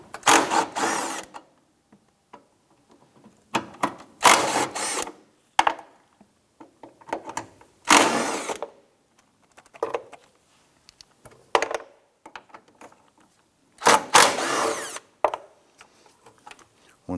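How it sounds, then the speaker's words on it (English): A 10mm socket on a ratchet loosens and removes the battery tray bolts on a 2005-2007 Ford Five Hundred, heard as close bursts of clicking and clattering separated by short pauses. "Using a 10mm socket, let's go ahead and loosen and remove the bolts holding the battery tray in place."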